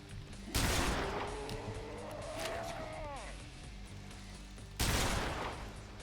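A 4-gauge shotgun in the Fallout 4 video game fires two heavy booming blasts several seconds apart, with game background noise and a rising whine between them.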